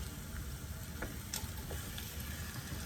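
Chorizo and egg scramble sizzles quietly in a pan, a soft continuous crackle and hiss with a few faint clicks and scrapes scattered through it.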